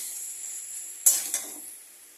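Cabbage fries in a pan for bandhacophi ghonto, a soft steady sizzle broken by two quick scraping stirs, close and quiet, with no voices.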